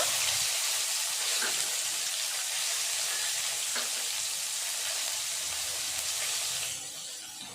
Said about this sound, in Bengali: ওই তেলে আমি দিয়ে দেব কালো জিরে তেজপাতা কাঁচা লঙ্কা